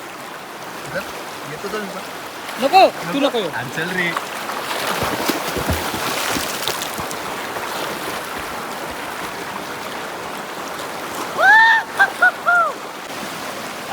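Water flows steadily in a river in a broad hiss, while nearby voices speak over it and there are a few short splashes.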